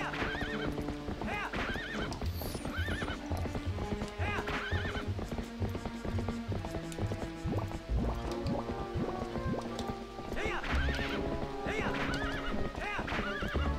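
A horse gallops and neighs in the Zelda Twilight Princess video game, with continuous rhythmic clip-clop hoofbeats, repeated whinnies and game music and effects layered over them, all loud and close.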